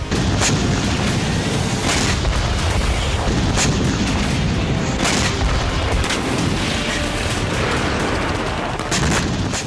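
Rocket and missile strikes on northern Israel: dense, continuous booms and rumbling blasts, loud and close, with sharp impacts rising out of a constant roar.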